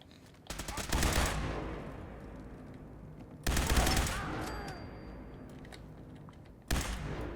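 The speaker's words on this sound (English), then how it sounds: "Covering fire." Bursts of rapid automatic gunfire from a Fallout 4 firefight, with three loud volleys separated by quieter stretches and a brief tonal game sound between them.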